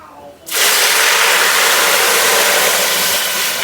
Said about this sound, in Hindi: अब हम इसमें डालेंगे सबसे पहले पानी इस जग से